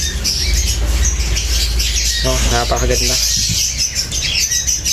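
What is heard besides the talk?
birds squawking inside a transport box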